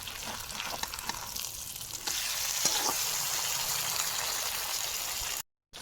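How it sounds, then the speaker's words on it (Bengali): Fish fries in a pan with special spices until crispy, giving a steady, close sizzle that swells a little louder partway through, with no talk over it, before cutting off abruptly near the end. "দেখুন দুপাশে ভালো করে মাছ ভাজা হয়ে গেছে"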